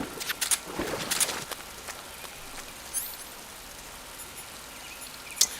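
Rain falls in the video game Metal Gear Solid, a steady soft patter with sharper drops and a few footstep-like taps, strongest in the first second and a half, then thinner and fainter, with a bright click near the end.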